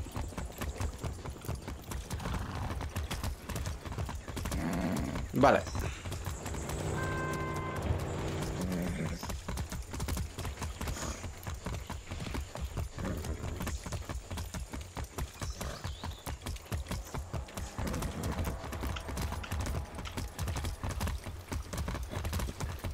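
Horse hooves clip-clop steadily throughout a Far Cry 6 ride, a fast regular patter under game music and ambience, with a brief spoken word and a short tonal sound partway through.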